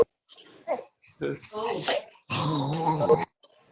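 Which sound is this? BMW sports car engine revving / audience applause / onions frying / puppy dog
puppy dog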